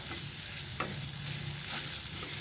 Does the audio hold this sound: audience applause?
no